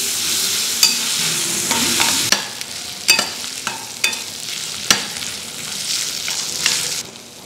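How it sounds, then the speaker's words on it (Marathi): Chopped onion, garlic, ginger paste and cashews sautéing in hot oil for a restaurant-style malai kofta curry: a loud, continuous sizzle close by, broken by sharp, regular spatula scrapes against the pan. "बारीक चिरलेला कांदा, लसूण, आल्याची पेस्ट, काजू हे छान परतून घेऊ।"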